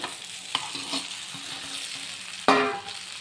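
Cut pieces of idli frying in a pan, a soft continuous sizzle with a few light stirring scrapes and one louder clatter near the end, close by and without speech.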